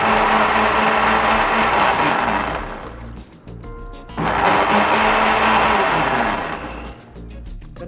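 Blender whirring loudly as it blends a mint margarita with soda, a harsh high motor buzz that dips briefly and then surges again, with no talking.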